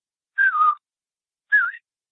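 A voice imitates a loud, clear whistle heard in the woods from a hunting stand: two separate whistled notes, the first longer and wavering downward, the second shorter and falling, with a pause between them.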